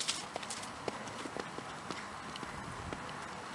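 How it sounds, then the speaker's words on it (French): A horse canters in a riding lesson, its hoofbeats landing as soft, fairly faint, irregular thuds in a loose rhythm over quiet arena background, with no speech. "Il faut que tu ressentes que le cheval galope par l'arrière."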